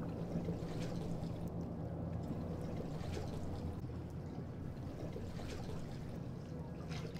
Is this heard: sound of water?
yes